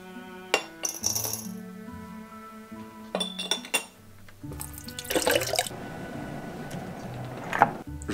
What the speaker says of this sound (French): Je peux maintenant verser l'eau à 95 degrés.